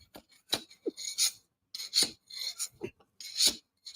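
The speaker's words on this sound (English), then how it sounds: "See if I can chisel up some of this stuff down here." An old chisel scraping hard cured resin off a concrete floor in short rasping strokes, about eight bursts with brief pauses, close and fairly faint.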